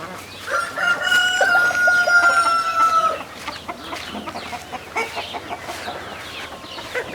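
A rooster crows loudly in a long, drawn-out call close by, then hens cluck in quick, uneven bursts around a farmyard where chicken coops are being built.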